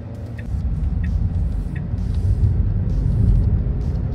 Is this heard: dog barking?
no